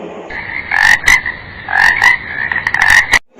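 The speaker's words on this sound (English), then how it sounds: "ரிங்னா அந்த ஃப்ராக்ஸ்லாம் ஒரு விதமான சவுண்டு கொடுக்கும்ல, அதுதான் ரிங்." Frogs croaking loudly and close by in a series of rhythmic, ringing bursts, several calls overlapping and repeating before an abrupt stop.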